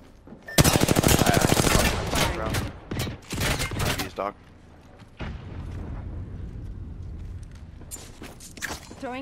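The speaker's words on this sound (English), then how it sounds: "I'm gonna keep shooting." Automatic gunfire in the Apex Legends video game, loud rapid bursts of shots with booming impacts that break off, then resume later amid game effects; a player talks over the action.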